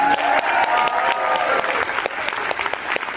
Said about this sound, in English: Let's give our entertainers one more big round of applause.